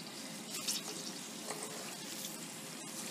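Pork fat rendering into lard in a cast iron skillet, a faint, continuous bubbling sizzle with soft crackles, steady and close with no talk.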